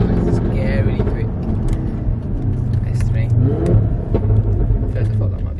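Audi RS3 8P on an MRC stage 2 map driving on a motorway, a steady loud engine rumble and road roar with a few sharp exhaust crackles standing out, and people talking over it inside the car.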